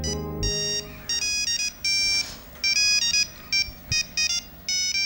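A phone ringtone plays loudly in bright, repeating electronic beeps, preceded by a brief low tone at the start.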